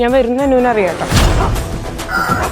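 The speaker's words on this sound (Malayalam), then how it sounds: "എന്താണെന്നറിയില്ല, കോഴി കൂവുന്നു" A rooster crows loudly and close at the start, one long wavering call lasting nearly a second, then a person starts speaking over a noisy background.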